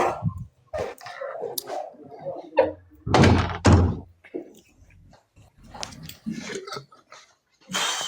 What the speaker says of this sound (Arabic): هو كيتقرع علينا